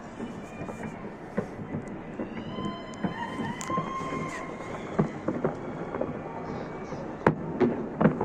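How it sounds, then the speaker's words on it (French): New Year's fireworks bursting at a distance, irregular sharp pops and booms scattered over a constant outdoor hiss, with a few whistling rising tones between explosions. "il y a des feux d'artifice partout, c'est fou"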